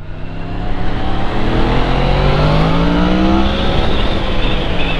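A Yamaha MT-10 motorcycle accelerating hard in town, its engine note climbing steadily in pitch over several seconds, loud and close with no talking.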